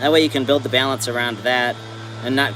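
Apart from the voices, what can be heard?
No everyday noise stands out behind the speech.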